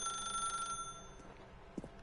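An old-style telephone rings in The Stanley Parable, a steady electronic bell tone holding for most of a second before cutting off, followed by quiet room ambience and a faint soft thump.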